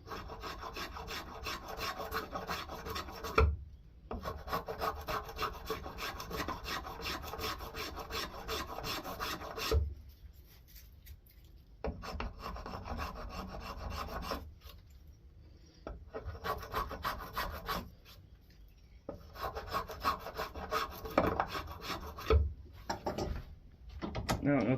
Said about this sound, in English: we're going to go downhill this direction with the spoke shave, so we're not cutting into the grain